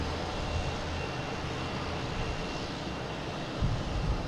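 A JetBlue airliner arriving from Santo Domingo lands at Boston Logan International Airport, a steady broadband jet roar with wind noise at moderate distance, swelling slightly near the end.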